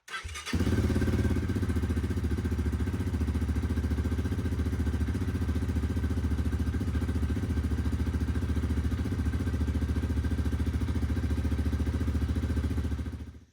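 A GPX FSE250e EFI motorcycle engine catches and idles steadily, a loud continuous low throb with a fast even pulse, running unchanged until it cuts off at the end.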